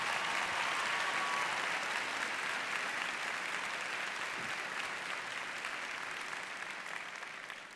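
Sustained, dense applause from a crowd at a college graduation ceremony, steady and fairly even throughout before easing slightly at the end, with no talk over it.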